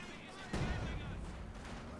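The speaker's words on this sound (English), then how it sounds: "Hits the mine there with the Sis barrage" An artillery barrage slams into a mine in a strategy video game, a single heavy boom followed by rumbling explosions fading under a voice talking over it.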